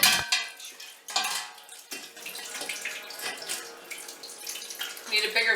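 Dandelion tea being poured through a strainer into a wide stock pot, a steady splashing trickle of liquid with light metallic clinks, close and continuous.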